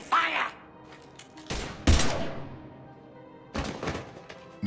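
Gunfire in the video game Mass Effect Legendary Edition: a few separate loud bursts of shots and impacts with quieter gaps between them, ending on another sharp hit.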